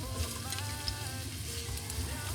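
Steady crackling sizzle of onion frying in a few spoons of vegetable oil in a deep pan, a continuous close hiss with tiny pops throughout and no voices.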